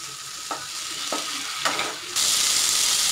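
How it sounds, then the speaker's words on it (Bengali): Potatoes and pointed gourd are stirred with spices in a frying pan, giving three or four quick scraping strokes over a soft sizzle that swells into a louder, steady hiss near the end. "ভালো করে নেড়ে নেবো মশলার সাথে,"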